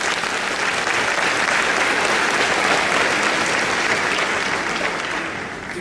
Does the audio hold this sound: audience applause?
yes